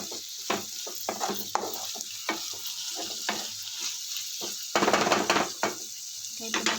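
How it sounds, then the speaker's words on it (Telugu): Bitter gourd pieces and onions fry in a pan with curry leaves, giving a steady close sizzle broken by repeated scraping stirs, with a denser burst of stirring near the end. "వీటిని కూడా ఒకసారి తిప్పుదాము తిప్పి అందులోనే నేను నాలుగు కరివేపాకు రెమ్మలు కూడా వేసేస్తున్నానండి"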